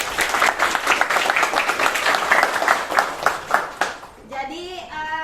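A classroom group claps steadily for about four seconds, then the applause stops and a voice is heard.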